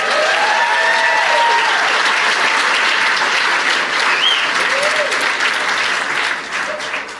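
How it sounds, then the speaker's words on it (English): A comedy club audience breaks into loud, sustained applause for educators, the clapping dense and close with a few whoops rising over it. "Clap for all these educators."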